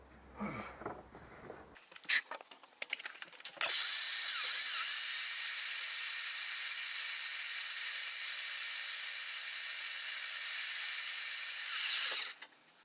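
An electric drill with a metal bit bores into the metal of a Peugeot 309 diesel fuel tank, preceded by some handling clatter, then a loud, continuous high whine that runs for about eight seconds before stopping abruptly.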